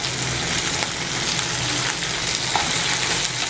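Onions and garlic sizzling in hot oil in a pan for onion chutney, a loud continuous crackling fry with occasional stirring scrapes and no talk.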